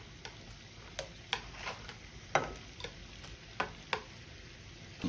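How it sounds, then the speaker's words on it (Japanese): Shrimp fry in butter and garlic in a pan, a soft steady sizzle broken by scattered light clicks and taps of stirring, heard close but quiet. "バターを入れて再度温度が上がってきたら、もうすぐに先ほどのエビを入れていきます"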